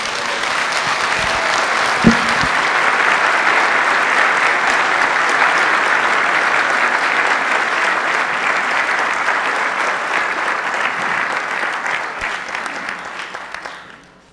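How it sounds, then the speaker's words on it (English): Sustained audience applause fills a town meeting hall in Nahant, steady and dense for about thirteen seconds before tapering off at the end, with a brief sharp knock near the start. "So just a round of applause."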